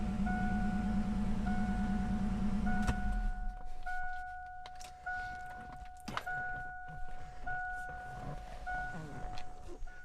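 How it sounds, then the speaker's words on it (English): Power windows on a 1988 Ford Mustang GT convertible with a 5.0 engine and very low mileage, cycling up and down several times as steady motor whines that start and stop over the engine's idle hum. "Windows up and down, crisp, clear."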